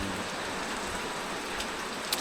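Steady rain pours down in a remote rural Lao village deep in the forest, a dense even patter with a faint tap near the end and no voices.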